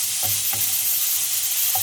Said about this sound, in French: Vous ajoutez aussitôt, tant que votre poêle est bien chaude, vos lardons, toujours sans matière grasse.